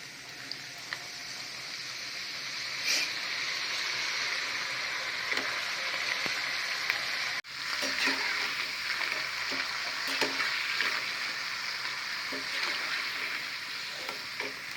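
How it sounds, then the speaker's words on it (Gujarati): Sago and potato chakli deep frying in hot oil, a steady close bubbling sizzle running throughout, broken once by a brief cut before the hiss resumes with occasional small clicks. "તેલ ગરમ થઈ ગયું છે, હવે તળીશું।"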